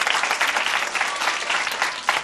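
A studio audience at a television show claps loudly, a dense and continuous wash of applause that swells slightly near the end.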